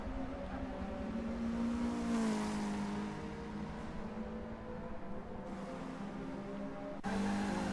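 Race car in a BTCC racing video game at Brands Hatch Indy, engine whine rising and falling with a tyre-squealing skid and a sudden sharp impact near the end as it hits the tyre barrier, no talk.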